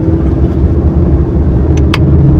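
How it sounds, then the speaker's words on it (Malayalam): A Honda City automatic's engine holds a loud, steady hum inside the car after a manual downshift to second gear, with a brief faint click near the end. "ഇപ്പം സെക്കൻഡ് ഗിയറിലായി ഇതിനനുസരിച്ച് ആർ പി എം കുറച്ച് കൂടി"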